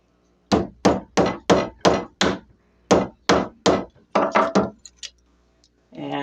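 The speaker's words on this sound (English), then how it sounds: "we're going to try and use this as a wood chisel. So we'll put the blade on the line" A utility knife blade used as a wood chisel is struck repeatedly against a dollhouse shingle, giving about a dozen sharp, close tapping knocks in a steady rhythm with a short pause, then a final softer tap.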